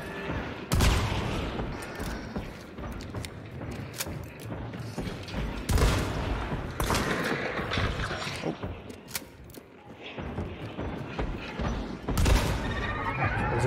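Gunfire in Hunt: Showdown, a string of loud, broadband shots and booms scattered across the clip at irregular intervals, mixed with clattering mechanical reload sounds and a busy game ambience.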